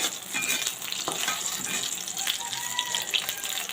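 Dried red chillies fry in a pan with a steady hiss and crackle that runs unbroken and fairly close, with faint stirring scrapes mixed in.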